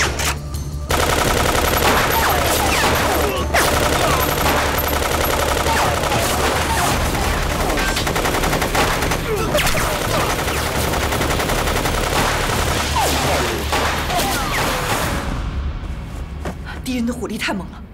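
Machine gun fire roars through a war-film battle scene, sustained heavy automatic bursts with booms and continuous loud gunfire for most of the stretch, with shouting voices mixed in, fading slightly at the end.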